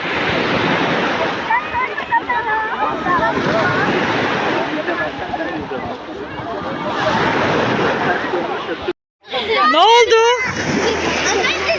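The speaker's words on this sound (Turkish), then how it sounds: "Arkadaşlar az önce bir dalga geldi." Sea waves break and wash steadily onto a warm beach, a dense roar with wind buffeting the microphone, while children's voices and talk come through near the end after a brief gap.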